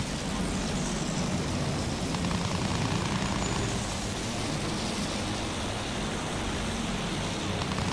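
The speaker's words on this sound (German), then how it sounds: "Feindliches Flugzeug!" Enemy aircraft engine in the Battlefield 1 air combat game, a constant, broad droning roar filling the whole stretch with no breaks, loud and dense like rushing wind.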